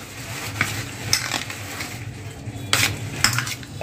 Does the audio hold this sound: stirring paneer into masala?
yes